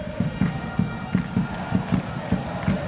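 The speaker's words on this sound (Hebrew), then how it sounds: "קהל עצום מלווה אותה" A large football crowd fills a stadium at a match, a steady roar of many voices with rhythmic surges of chanting or clapping repeating every half second or so.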